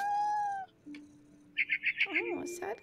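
A cat meows in the video game What Remains of Edith Finch, a short series of rising, plaintive meow calls following a brief sustained tone, with a soft game ambience beneath.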